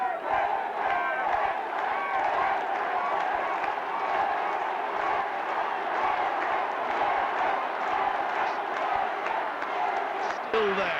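Limerick supporters at a 2001 Wexford v Limerick hurling quarter-final roar in a dense, sustained crowd din with shouts and scattered clapping, loud and unbroken throughout.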